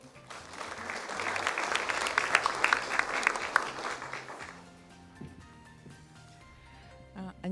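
At an education conference, an audience claps warmly for about four seconds to welcome a speaker to the stage, the applause dense and steady before tapering off into the room's quiet hum.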